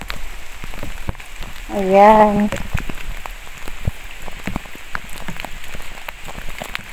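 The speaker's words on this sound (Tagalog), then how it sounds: "Sobrang ulan po." Heavy rain pours down in a continuous, loud patter that fills the whole scene, and a voice briefly calls out partway through.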